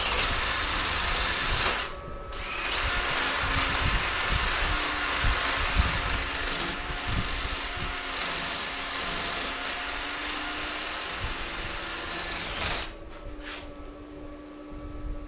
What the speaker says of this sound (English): this is just like a wire brush on the drill